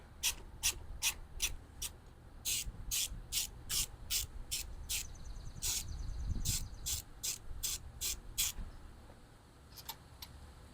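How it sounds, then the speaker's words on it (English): A 12 mm wrench works on motorcycle brake caliper bolts, making a quick run of sharp, evenly spaced ratcheting strokes up close, then a brief pause and a few last clicks, with no talking. "Let's get this caliper off."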